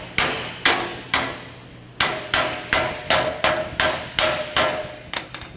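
A hammer drives a small chisel along the style line of a severely damaged car fender: about a dozen sharp, ringing metal blows, close and loud, in a steady rhythm with one brief pause early on.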